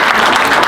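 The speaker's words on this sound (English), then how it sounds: "Can we have some applause for Mark?" An audience at a Nutley Hall of Fame event breaks into a dense, steady burst of clapping, close and full.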